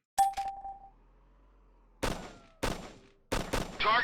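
Gunfire on a video game shooting range in Operation Flashpoint: a sharp opening shot, then after a pause three separate loud, close bursts of rapid fire with metallic ringing, no voices.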